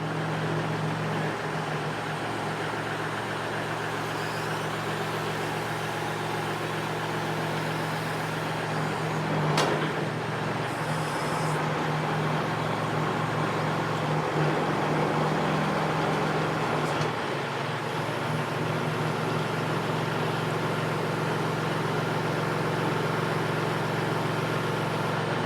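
A Kubota L3301 tractor fitted with a BH77 backhoe idles steadily nearby, a continuous low diesel drone that holds at the same level throughout, with a couple of faint clanks.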